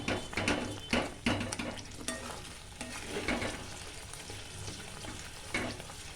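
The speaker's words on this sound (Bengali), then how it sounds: "পেস্ট করা মশলাটা দিয়ে দিয়েছি।" Spice paste of Kashmiri chilli powder, turmeric, cumin powder and ginger paste frying in a pan for dhaba-style chicken, with a steady close sizzle and repeated scraping strokes of a spoon against the pan.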